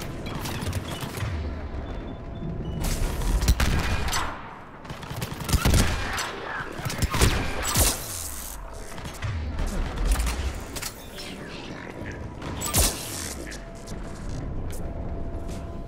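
Turret gunfire in the video game Mass Effect 3, rapid loud bursts and sustained volleys of shots with booming impacts, continuing almost without pause over mechanical game noise.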